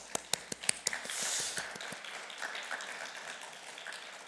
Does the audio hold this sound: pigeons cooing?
no